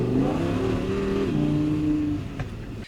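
A 2022 Audi R8 Spyder V10 Performance engine roars loud and close from inside the cabin with the rear window open, rising through gears in steady revving climbs before easing off at the end.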